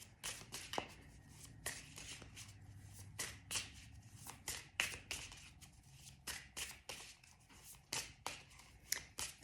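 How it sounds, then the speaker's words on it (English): Tarot cards shuffled and drawn by hand, a series of soft riffling swishes and flicks in uneven bursts, close and quiet, with no speech. "So I'm going to draw out 3 cards and see what it says."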